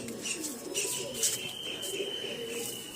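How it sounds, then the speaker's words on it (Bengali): Soft coos from loft pigeons released overhead repeat under a constant background hum, with a few faint chirps mixed in. "এই যে বিটার পায়রাগুলো এই উপরে ছাড়া আছে"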